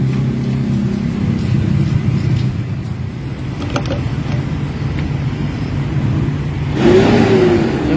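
A Toyota Hilux with low power and throttle delay from a faulty actuator and sensor runs with a loud, close engine drone and whirring, holding a steady rev before rising in pitch near the end.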